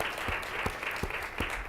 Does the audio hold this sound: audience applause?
yes